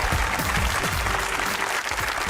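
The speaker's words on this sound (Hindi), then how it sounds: "तालियां बजाएं।" Applause from a studio audience at a comedy talk show fills the space, a dense, loud wash of many hands clapping continuously throughout.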